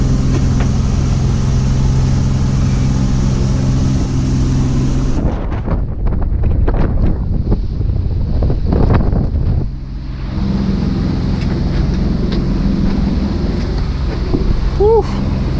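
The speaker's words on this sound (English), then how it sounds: "Been going straight into it for a while now and banging the crap out of the boat." A small boat near Kodiak pounds into waves in strong wind, with loud, constant wind roar and water rushing against the hull, plus a stretch of heavier broadband thumping in the middle.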